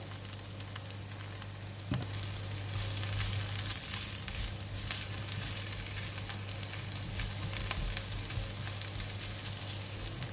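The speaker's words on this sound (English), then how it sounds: "So we're going to continue to stir fry these 2 ingredients until it's cooked" Frozen vegetables and meatballs stir-fried in oil for belacan fried rice, giving a steady close sizzle with scattered scraping and stirring clicks, alone without talk.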